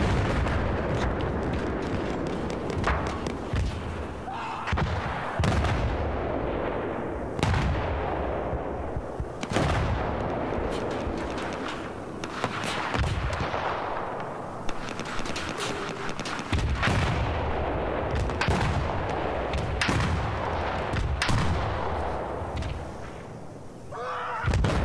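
Video game raid gunfire and artillery, with dense bursts of shots and heavy booming blasts rolling almost continuously and loud throughout, broken by only brief lulls.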